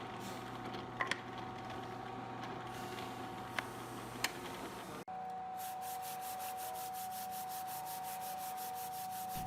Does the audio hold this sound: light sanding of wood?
yes